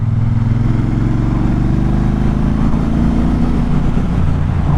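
Triumph Speedmaster motorcycle with a 1200 cc engine, throbbing loud and close with a deep, low, continuous pulse and no voices.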